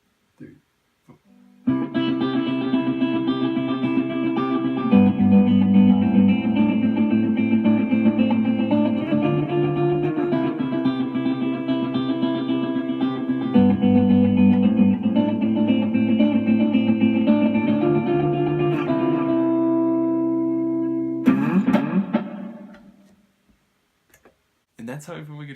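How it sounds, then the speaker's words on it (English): Electric guitar with a dialed-in tone and effects plays a sustained, driven passage for about twenty seconds, loud and steady with harmonically rich chords, then stops abruptly with a brief trailing strum at the end. "And that's how I put my guitar tone together."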